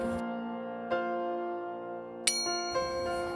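A bright notification bell rings with a clear metallic ding and a long sustained ring, then a higher sharper strike and a few lighter tinkles follow, alone with no talking.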